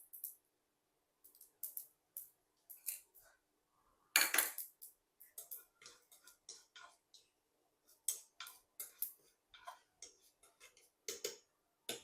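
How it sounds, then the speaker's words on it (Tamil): Mustard seeds splutter in hot oil while tempering for thayir vadai, giving sparse, crisp crackles and pops in irregular bursts, close and fairly quiet against a silent background. "கடுகு நல்லா பொரியணும்."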